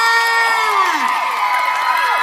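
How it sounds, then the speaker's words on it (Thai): A Thai event crowd cheers for a performer with a sustained chorus of shrill, high voices whooping and shrieking, loud and close, with sliding pitches rising and falling and little distinct clapping. "อีกหนึ่งรอบขอเสียงปรบมือให้คนรีดเดอ์สตาร์ค่ะ"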